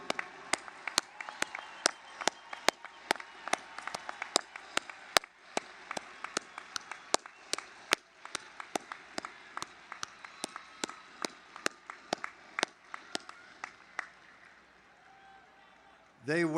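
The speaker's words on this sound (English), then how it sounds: "Please stand up and take a bow as guests and graduates applaud you." Guests and graduates applaud at a college of the arts commencement ceremony, a long run of scattered, fairly sparse claps from a spread-out crowd that thins out toward the end before a brief louder burst.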